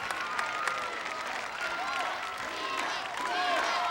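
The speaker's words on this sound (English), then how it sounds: "As the crowd shouts their support for Nina" A studio crowd at an American Gladiators competition applauds and shouts in support of a contender, with steady, dense clapping, cheering and whistles filling the room, and a commentator's voice running over it.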